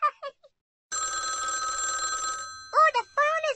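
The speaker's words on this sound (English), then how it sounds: "Oh, the phone is ringing." An electronic telephone bell rings continuously for about a second and a half in a children's game, with a voice speaking briefly before and after the ring.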